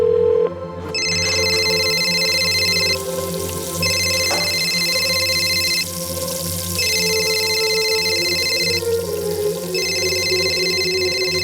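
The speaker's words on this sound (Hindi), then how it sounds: "प्लीज फोन उठा लो पायल।" A telephone rings in repeated bursts of about two seconds each with short pauses, in a Crime Patrol TV drama, over a steady low background hum.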